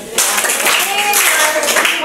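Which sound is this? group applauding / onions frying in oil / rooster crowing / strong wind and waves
group applauding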